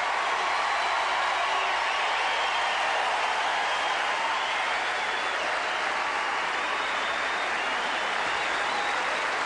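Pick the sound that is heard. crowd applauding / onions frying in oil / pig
crowd applauding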